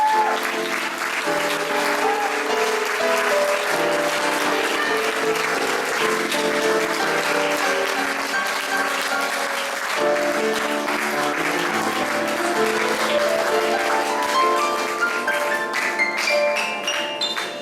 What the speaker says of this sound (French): On peut les applaudir bien fort, Martin et Jean-François.